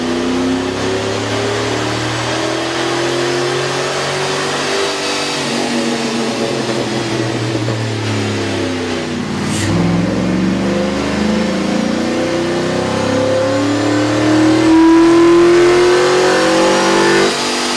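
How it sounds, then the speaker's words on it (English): A 2003 Cadillac Escalade's 6.0-liter V8 with a K&N air intake revs on a dyno, a loud, close, deep engine note sweeping up and down through repeated runs before climbing to a sustained high-rev roar. "we ran the vehicle on the dyno to test the sound comparison versus the stock intake"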